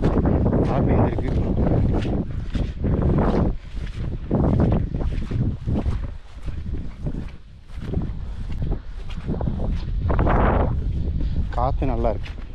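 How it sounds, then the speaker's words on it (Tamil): Wind gusting outdoors on a forest trekking trail in tiger territory in Periyar, loud buffeting rushes against the microphone that rise and fall, with people talking throughout. "காற்று நல்லா இருக்கு."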